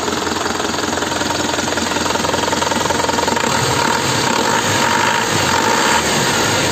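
Engine of a 1997 Isuzu Panther Royal, 2.5-litre diesel, idles steadily in a close, loud, continuous rumble with an even knocking rhythm and no pauses.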